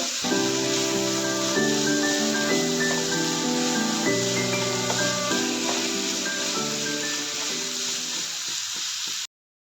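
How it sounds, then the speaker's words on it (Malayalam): Onion masala sautéing in a pan for Kerala-style egg roast, a steady even sizzle and hiss throughout, with background music playing over it and cutting off abruptly near the end. "നമുക്കിനി ഇത് നല്ലപോലെ വഴറ്റി കൊടുക്കാം"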